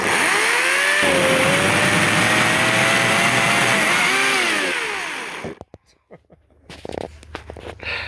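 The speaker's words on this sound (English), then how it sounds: "chainsaw action while you're filming" A small EGO battery chainsaw whines loudly for about five seconds during hurricane cleanup, its pitch rising and dipping as it cuts, then cuts out, leaving clatter and rustling.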